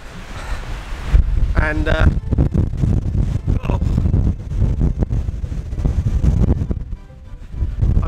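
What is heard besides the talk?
strong wind on a mountain, wind noise on microphone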